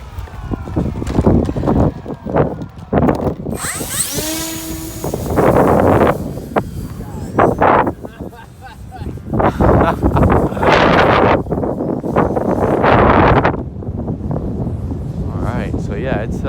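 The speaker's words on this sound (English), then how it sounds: "And it's about 30-mile-an-hour gusts right now." Strong gusty wind of around 30 mph blasts across the microphone in heavy roaring surges while a small E-flite Timber X RC plane's propeller whines nearby and a person talks through the gusts.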